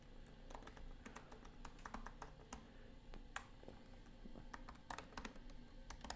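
Keys clatter on a computer keyboard in quick, irregular bursts of close typing, some clacks sharper than others, over a faint steady room hum with no one talking.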